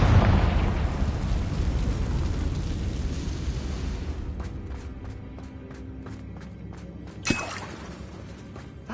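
A Confringo spell explodes in Hogwarts Legacy, a single sharp burst late on after a rumbling, fading stretch of background noise and a series of faint ticking taps, with no talk.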